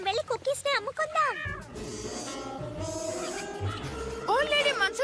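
A cartoon cat meows in a few short, rising calls at the start and again near the end, heard over steady background music and voices in a Telugu-dubbed animated series.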